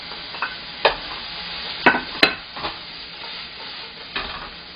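Onions stir-fried in a pan with blanched shrimp for Chinese spring rolls: an even sizzle punctuated by several distinct spatula knocks and scrapes against the pan, close up, without speech.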